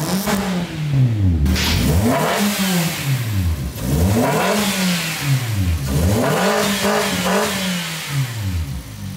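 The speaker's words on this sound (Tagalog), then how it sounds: "So ngayon, pakinggan na natin kung ano magiging tunog niya." A Toyota Vios with custom 4-1 headers and no catalytic converter revs hard again and again, each loud swell rising and falling in a rhythmic wave, close up and with no voices.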